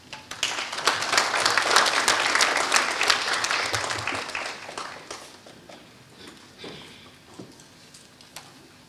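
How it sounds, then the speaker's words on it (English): An audience at a financial inclusion event applauds the Deputy Governor, a dense burst of clapping that swells early and then gradually thins out to scattered claps. "A bigger round of applause to the Deputy Governor."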